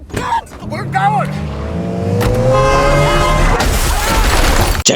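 A car in a film scene roars and accelerates with squealing tires, then crashes with a loud burst of impact noise, while voices shout over the engine.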